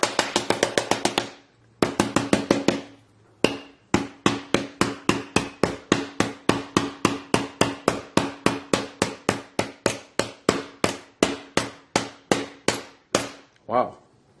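Knife point striking the back of an iPhone XS Max over and over, a rapid series of sharp, close tapping knocks that runs almost steadily with a couple of brief gaps, loud and with no voice over it.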